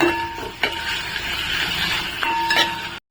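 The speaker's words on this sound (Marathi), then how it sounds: "ह्याच्यामध्ये ना आपण टॅमॅटो ऍड करणार आहोत तो पण छान असा आहे ना परतून घेऊया" Tomatoes are sautéed with onion in a pan for a matar palak dish, making a steady hissing sizzle. A couple of bright spatula clinks ring against the pan before the sound cuts off abruptly.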